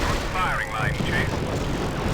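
Propeller aircraft engines droning in a WWII air-combat video game, a steady rumbling hum overlaid with sweeping whistles and radio-style chatter throughout, fairly loud and continuous.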